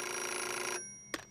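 Cartoon telephone bell ringing steadily and loudly, then cutting off abruptly, followed by a short click-like burst as the receiver is picked up.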